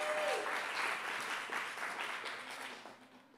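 An audience claps steadily, a dense burst of applause that starts strong and gradually fades over a few seconds.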